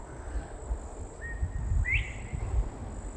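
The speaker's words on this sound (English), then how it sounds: "I just assumed it was the scrub jay, but we looked it up on the Merlin app, and it's a northern bobwhite" Northern bobwhite in a Florida state park giving two short whistled notes, the second rising and louder, distant over a low rumbling background.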